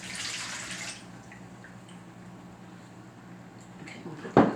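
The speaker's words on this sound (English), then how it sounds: "It's 2 1/4 cup warm water." Warm water pours into a bowl for bread dough as a brief hissing splash lasting about a second. It is followed by quiet room tone and a sharp knock at the end.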